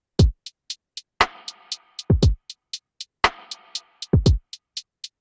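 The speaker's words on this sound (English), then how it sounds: "So the drums sound like this." A bright, straightforward drum loop in which crisp hi-hats take the place of rim clicks, steady ticking hats punctuated by deep kick thumps and ringing snare hits, played clean with no talking.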